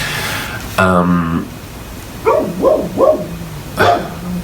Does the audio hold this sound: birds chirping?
no